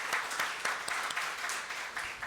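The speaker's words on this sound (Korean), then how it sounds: "우리 감사의 박수 드리겠습니다" A church congregation at a Sunday service claps in thanks, a continuous, moderately loud round of applause with individual claps standing out, heard on its own without speech.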